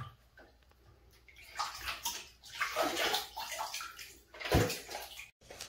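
A child sits in a bathtub as the water sloshes and splashes in uneven bursts, near and moderately loud, with a sharper splash toward the end and no talking.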